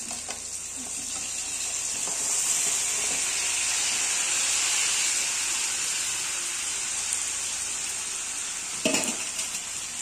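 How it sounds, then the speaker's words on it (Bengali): Chicken fries in a pan of cooked-down spice masala with a steady, close sizzle and hiss, and a brief clatter of stirring near the end. "এবার এই মশলাতে আমি চিকেনটা দিয়ে দেবো।"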